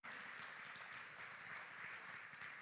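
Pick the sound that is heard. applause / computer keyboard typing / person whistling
applause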